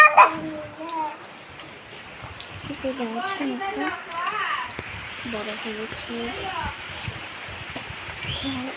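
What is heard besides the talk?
rain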